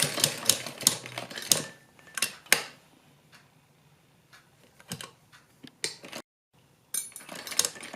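A sewing machine stitches a strip onto a sleeve piece, making rapid mechanical clattering bursts broken by short pauses and one brief silence, close and without talk.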